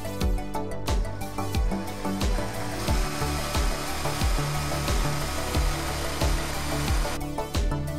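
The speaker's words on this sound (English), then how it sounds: "I may have to drill this hole out." A power drill bores out a hole in a finished lamp piece for a Luxo Jr lamp build, with repeated bursts of whining and grinding, loud and close.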